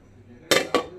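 A lid set down onto a cooking pot of Andhra country chicken biryani rice, two quick metallic clanks close by, the second just after the first, over a quiet kitchen background.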